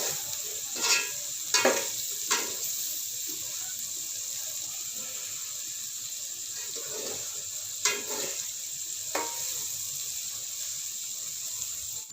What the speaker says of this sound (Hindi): और चनों को अच्छी तरह अपने मसाले में भून लेना है।